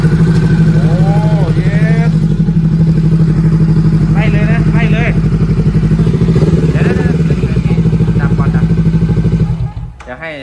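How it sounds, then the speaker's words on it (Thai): A 2022 Honda CBR500R with a loud aftermarket exhaust idles with a deep, steady throb, with people talking over it, before the engine cuts off near the end. "เอามาฟังเสียงพ้อกันเลยดีกว่าครับโอเค ขออนุญาตให้น้องเขาสตาร์ทกันหน่อยนะครับ"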